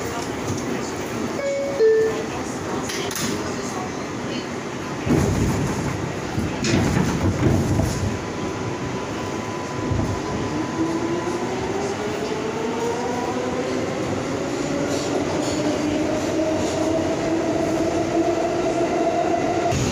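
An R142 subway train on the New York 6 line pulls out near Brooklyn Bridge–City Hall, loud rumbling and rising motor whine building as it gains speed, with a few heavy clunks early on.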